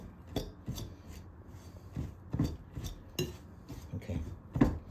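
A utensil scrapes and clacks against a bowl while a molasses shoofly pie crumb mixture is mixed. The strokes are close and fairly quiet and come in an irregular rhythm of sharp scrapes, with short pauses between them.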